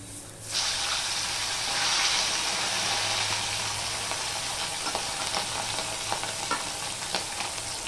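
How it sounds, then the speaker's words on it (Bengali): Bata fish slid one by one into hot oil set off a loud, steady sizzle from about half a second in, with scattered sharp pops and spits crackling through the continuous frying hiss. "তেলটা গরম হয়ে গেছে, এবার আমি একে একে মাছগুলো"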